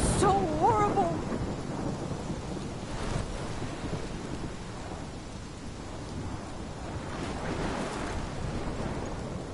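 A thunderstorm in the video game Life Is Strange brings steady heavy rain and low rolling thunder, with a voice briefly heard at the start.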